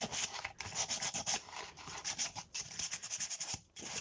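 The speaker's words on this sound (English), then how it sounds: "rub over with the sandpaper" Sandpaper rubbed by hand over a Christmas lantern, a close, quiet, rhythmic scratchy rasp in short back-and-forth strokes with brief pauses between them.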